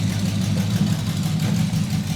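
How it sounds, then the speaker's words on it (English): A custom car engine fitted with exotic carburetors settles into a smooth, steady idle, a low continuous rumble close by with no talking. "It lays right down to idle and just purrs smooth."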